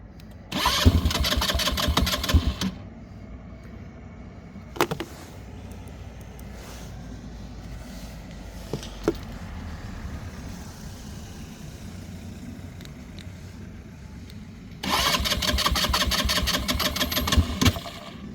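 A Kuba MX220 200cc off-road ATV is cranked by its electric starter in two bursts of rapid whirring and chugging, with a rough low engine rumble and a few clunks between the attempts, close and loud.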